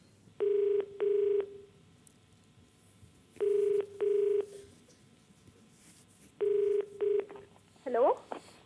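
An outgoing phone call from the Kaun Banega Crorepati game show stage rings through a handset in three paired bursts of steady electronic tone separated by pauses. A voice briefly answers at the end.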